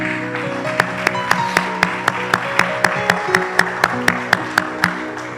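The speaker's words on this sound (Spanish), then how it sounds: "Dale un fuerte aplauso al Señor." Church congregation clapping in a steady, even rhythm, crisp claps falling on the beat over music.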